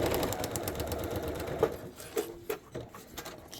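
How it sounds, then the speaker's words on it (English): A home sewing machine stitches pieced quilt blocks, its steady mechanical whir running continuously and close by, with a few brief clicks and knocks near the end as the run slows. "I'm going to take it over to my sewing machine and stitch away."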